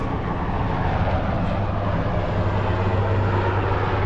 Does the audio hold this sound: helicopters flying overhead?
yes